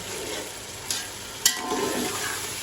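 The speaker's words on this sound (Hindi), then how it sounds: "इनको अच्छी तरह से पहले फ्राई कर लेंगे" Carrots and peas fry in a pan for a Chinese-style chicken and vegetable fried rice: a steady close sizzle with two brief clinks of stirring.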